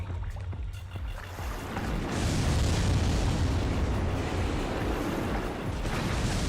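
A large missile explosion in Armored Core 3, a deep rumbling boom that swells after a short lead-in and keeps roaring as a dense, sustained blast.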